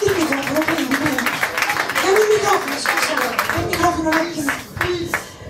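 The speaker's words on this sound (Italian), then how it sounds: "Un altro applauso" A small audience at a salon concert gives another round of applause, uneven clapping hands running through the clip with voices, including a child's, talking over it.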